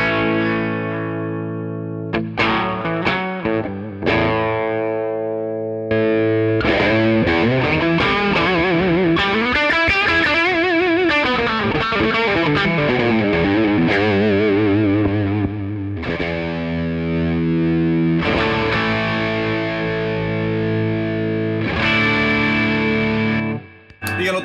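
Electric guitar runs through a Tube Screamer overdrive pedal, playing loud, sustained distorted chords and single-note lines with wavering bends. Short gaps separate some phrases, and the tone stays warm and saturated.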